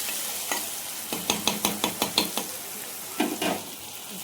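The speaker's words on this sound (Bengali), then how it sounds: "টমেটো ক্যাপসিকাম দিয়ে এখন আপাতত মশলাটা ভাজছি" Masala with tomato and capsicum fries in a pan, a constant close sizzle broken by a quick run of rhythmic spatula scrapes and taps, then a couple more stirring strokes.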